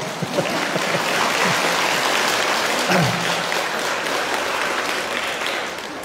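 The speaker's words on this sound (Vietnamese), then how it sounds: "cảm ơn những tràng vỗ tay" A seated audience at a Buddhist dharma talk gives sustained applause, a dense, even patter of many hands continuing steadily for several seconds without pause.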